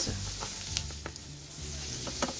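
Whole cloves fry in a pan and are stirred, giving a close, steady sizzle broken by a few light scraping clicks from the spatula; no one speaks.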